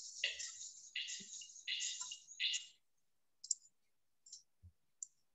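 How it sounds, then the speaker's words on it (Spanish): A computer mouse is clicked a few times during photo editing: three or four faint, sharp clicks spaced apart come after a short stretch of hissy noise at the start of the recording. "como siempre, de clic derecho en el mouse"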